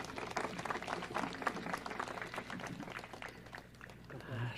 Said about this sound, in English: Let's give a wide clap again